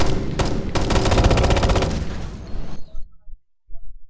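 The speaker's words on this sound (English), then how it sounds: "I've got a machine gun" Sustained automatic machine-gun fire from a firefight in Ghost Recon Future Soldier, loud and close, a rapid continuous burst for a couple of seconds that cuts off into a few scattered trailing bangs and near silence.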